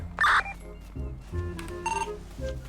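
A phone rings inside the video game GTA V on a FiveM roleplay server, giving a few short bursts of electronic ringing spaced apart over a low steady game background.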